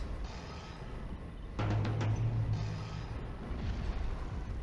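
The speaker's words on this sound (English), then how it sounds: "so I used the Cluster Explosion" The Cluster Explosion fire spell in the Battleforge strategy game sets off a booming blast with a deep rumble partway through, over a low steady game background.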